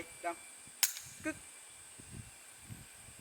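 A pistol's trigger is pulled on a round that fails to fire, giving one crisp metallic click amid a few faint mechanical taps and handling noises, with soft voices murmuring in the background.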